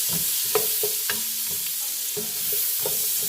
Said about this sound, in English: let the onions just kind of sweat a little, trying to break them up